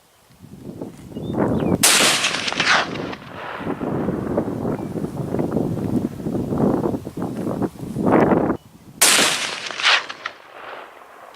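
Rifle shots ring out during target shooting in an open field: a few sharp, loud cracks with rolling echoes, one near the start and another later, separated by stretches of lingering rumble.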